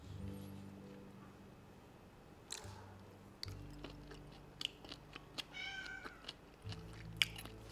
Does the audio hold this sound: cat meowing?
yes